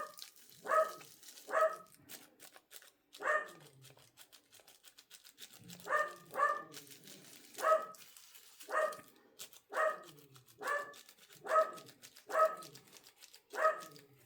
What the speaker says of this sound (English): he's barking at UPS